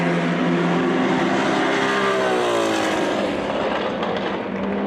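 A 1969 Porsche 917K race car and other vintage Porsches at a Rennsport Reunion race, engine screaming loud and close as it passes, the pitch sweeping downward with a clear Doppler fall before fading slightly.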